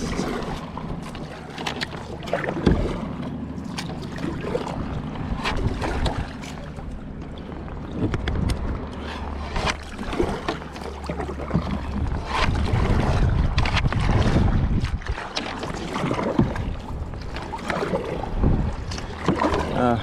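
A kayak is paddled through nets on the water off a Jamaican beach, with close paddle splashes and knocks amid steady wind buffeting the microphone, and a voice speaking now and then.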